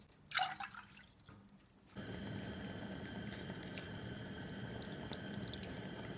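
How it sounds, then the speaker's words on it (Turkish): Water poured onto sugar in a pot for a dessert syrup, a brief clatter followed by a steady, close stream of pouring liquid with no voices. "2 su bardağı toz şeker, 3 su bardağı su ekliyoruz."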